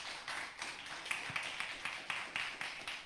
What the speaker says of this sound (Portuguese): aplausos a Ele em nome de Jesus